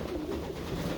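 Hungarian Giant pigeons coo steadily in a continuous low murmur at a loft on a pigeon farm, several birds overlapping close by with no talk.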